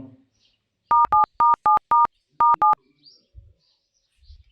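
A quick run of electronic keypad beeps, about eight tones in two bursts, as a phone number is dialed, with faint murmurs before and after.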